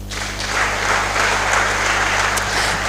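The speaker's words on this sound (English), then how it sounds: "Yes, you can clap for me." Audience clapping at an engineering freshman orientation in Ghana, a steady wash of applause from a hall full of students over a constant low hum, sustained for a few seconds.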